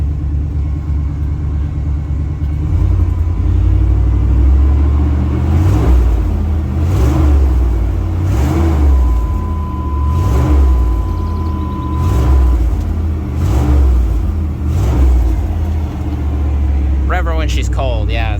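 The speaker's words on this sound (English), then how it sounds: "So we're at a high idle." A 1990 Chevy K1500 pickup engine runs at high idle, a steady, close, low rumbling drone with a faint rhythmic pulse that holds evenly throughout.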